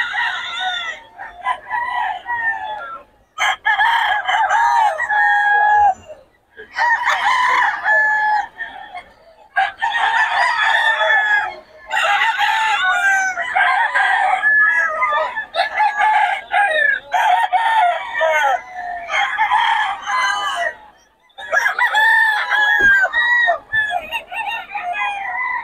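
Roosters and chickens at a gamefowl seller's stall in Bocaue, with repeated loud crowing calls overlapping close clucking, continuous and busy throughout.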